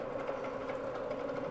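Milling machine running steadily with a constant mechanical hum and fine whirring as the spindle is brought down and locked, close and continuous with no talk.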